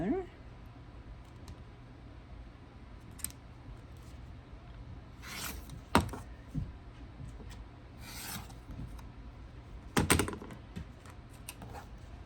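A rotary blade trims a fabric quilt block for a mill wheel pattern along a ruler, giving soft scraping and rasping strokes, with a few sharper cuts standing out over a quiet background.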